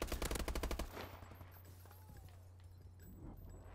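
Rapid automatic gunfire in the video game Call of Duty Advanced Warfare, a fast burst of shots lasting under a second, followed by quieter game ambience and a low steady hum.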